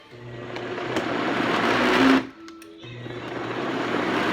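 A NutriBullet blender whirs steadily while blending sofrito with vinegar, close and loud, building for about two seconds before a brief stop, then running again with the same motor drone.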